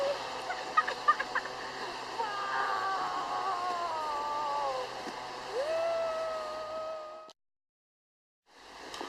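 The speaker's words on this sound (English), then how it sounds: "In this park, there are ducks all year." Ducks in a snowy park during a winter blizzard give faint, scattered calls over a soft outdoor background for several seconds before the sound cuts out abruptly.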